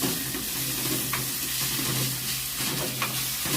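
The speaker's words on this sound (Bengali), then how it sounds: "রসুনটা ভাজা হয়ে গেছে" Garlic with green chillies, turmeric and chilli frying in oil for a West Bengal dish, a steady broadband sizzle close by with a few soft stirring scrapes and no talking.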